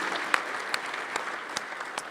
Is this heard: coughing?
no